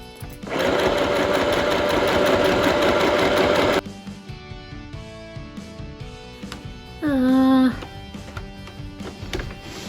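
A sewing machine stitching a modern vintage-style dress runs in a loud, steady whir for several seconds and then stops, followed by clunks of handling and a short rising mechanical whine.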